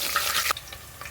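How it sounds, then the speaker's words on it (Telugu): Onions frying in oil in a kadai, a close bright sizzle that cuts off abruptly partway through, leaving faint crackles, no talk. "ఒక సైడు ఆనియన్స్ మనం ఫ్రై చేసుకోవాలి"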